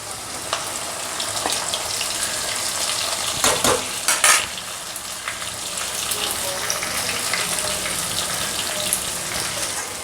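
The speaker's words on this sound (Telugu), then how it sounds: "ఇప్పుడు వంకాయని వేయించుకోవాలి మసాలా పెట్టుకుని నూనెలో బాగా వేయించుకొని" Brinjal pieces frying in oil with masala, a steady close sizzle with a brief scrape of stirring partway through, loud and continuous.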